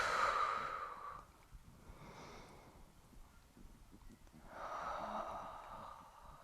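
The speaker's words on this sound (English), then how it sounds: "Breathing into where you need it most." Two slow, deep breaths during a yoga session, a long airy exhale at the start and another drawn-out breath toward the end, close and soft against a quiet room.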